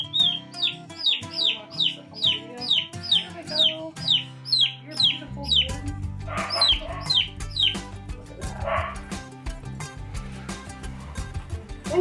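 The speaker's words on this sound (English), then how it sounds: "When you hold him upside down, he stops chirping." Young chicks or poults chirping in rapid, repeated high peeps while being handled on a farm, close and fairly loud, with low voices talking underneath.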